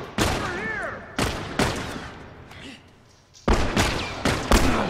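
Gunfire in The Last of Us video game, a run of sharp, loud shots in quick succession with a brief lull in the middle, close and punchy over game sounds.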